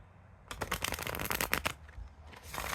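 A deck of tarot cards being shuffled up close, a rapid fluttering riffle of cards lasting over a second, followed by a brief softer shuffle, in an otherwise quiet room.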